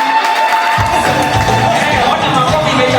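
A church congregation bursts into clapping and loud cheering to welcome Rev. Martin Koome and his wife home from South Africa. The crowd noise starts abruptly under a second in and stays dense and steady to the end.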